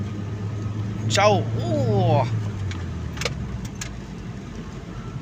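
A Proton Saga LMST 1.3 with an upgraded 8-inch clutch lining climbs the Kimanis hill, its engine a low continuous drone beneath someone talking in the cabin.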